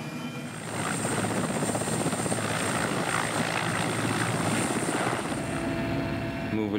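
A helicopter flying over the Siberian tundra makes a steady, loud rotor thump and turbine whine that swells after the first second and holds continuously.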